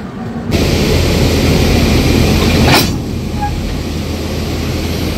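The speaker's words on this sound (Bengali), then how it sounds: "2 নম্বর প্ল্যাটফর্মে ট্রেন দিল বর্ধমান জাংশন।" Mithila Express standing at a platform of Bardhaman Junction, giving a steady, loud rumble that holds throughout, with a brief sharp hiss bursting out near the middle before the noise settles slightly lower.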